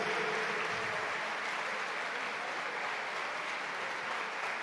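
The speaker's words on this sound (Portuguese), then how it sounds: "Aplauda o Senhor." A church congregation applauds in a steady, continuous wash of clapping heard from some distance, fairly soft and unbroken throughout.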